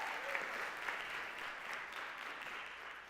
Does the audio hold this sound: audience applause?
yes